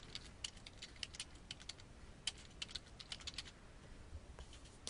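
Someone types a phrase on a computer keyboard, quick irregular key clicks in short bursts, close and fairly quiet, with no voices.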